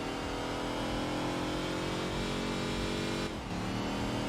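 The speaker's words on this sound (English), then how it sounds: "Oh, the lower rumble of a Mustang in the exhaust section." Ford Mustang in the video game Enthusia Professional Racing, a steady, loud engine drone with a low exhaust rumble that dips briefly near the end before resuming.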